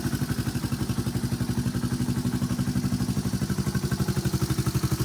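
A Honda Fourtrax TRX125 ATV engine idles smoothly nearby, a steady, evenly pulsing single-cylinder putter with no revving, running alone for the whole stretch.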